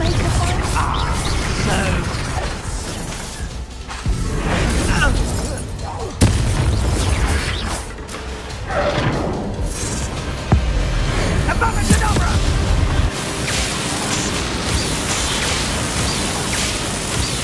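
Booming spell blasts from Bombarda and Confringo in Hogwarts Legacy, several loud explosions and crashes scattered through a chaotic battle, mixed with a voice talking.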